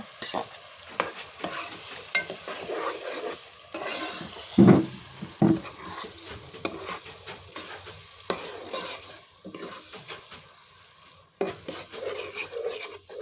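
Ready-mix beef haleem is stirred in a pot, with thick repeated spoon scrapes and clanks against the metal over a gentle sizzle, irregular and close, no talking.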